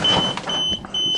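The warning beeper in a 427 gas Chevrolet dump truck on a cold January start sounds a shrill, steady tone that breaks off briefly and resumes, over a rough background of engine noise.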